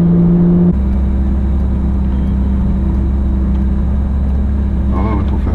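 A Ferrari 458 Italia runs with a loud, steady low engine drone, holding a constant tone after a brief shift near the start, with a rising whine appearing toward the end.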